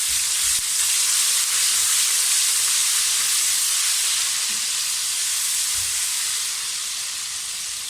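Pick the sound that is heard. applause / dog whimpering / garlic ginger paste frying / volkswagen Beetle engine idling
garlic ginger paste frying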